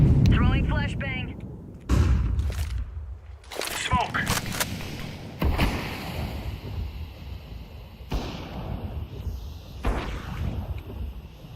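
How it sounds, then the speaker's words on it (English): A flashbang grenade goes off in Counter-Strike amid game action: several sharp, loud booming bursts spaced a few seconds apart, each trailing off into a rumbling wash, with a faint chirping tone at the start. "Throwing flashbang"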